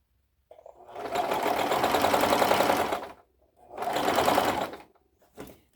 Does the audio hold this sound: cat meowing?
no